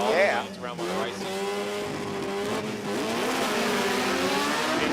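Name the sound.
drag racing car making its run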